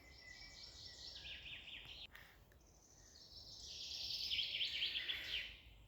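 Birds sing in a forest, with faint high chirps and trilling phrases drifting from a distance over quiet outdoor ambience.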